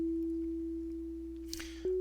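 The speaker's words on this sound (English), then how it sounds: "sine wave coming through here." A pure sine wave test tone runs through the Thor shaper as a steady clean hum that holds one pitch, then steps slightly higher near the end, with faint handling noise and no speech.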